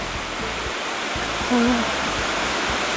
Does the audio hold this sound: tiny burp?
no